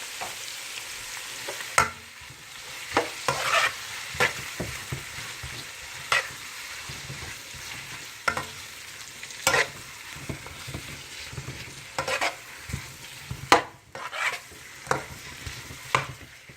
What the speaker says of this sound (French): je mets tout de suite ma pâte de tomate pour le faire cuire